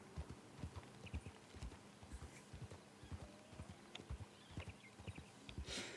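A horse's hooves clip-clop at an even walking pace, each strike crisp and close against a quiet background, with a brief hiss of noise near the end.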